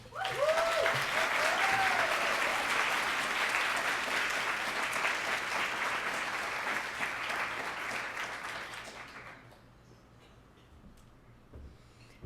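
Sustained audience applause in a lecture hall at the Athenaeum, welcoming speakers Chris and Sandy, loud and dense for about nine seconds before thinning out and fading to near silence.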